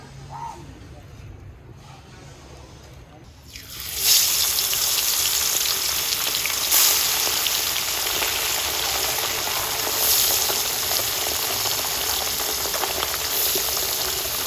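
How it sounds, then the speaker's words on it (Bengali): Fish pieces rubbed with turmeric and salt go into hot oil one by one. A quiet stretch gives way to a sudden loud, crackling sizzle that keeps going steadily, close by. "প্রত্যেকটা মাছ এবার আলাদা আলাদা করে ভেজে নেব"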